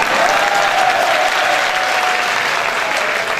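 Crowd of devotees at a Radha Ashtami festival gathering in Barsana claps together in a dense, sustained wash of applause, loud and even throughout with no break, and no talking over it.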